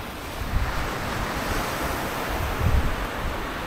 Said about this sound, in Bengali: সমুদ্রের ঢেউয়ের গর্জনগুলো আসলে